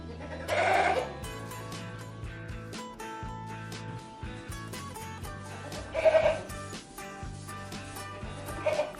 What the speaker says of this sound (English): It was a goat.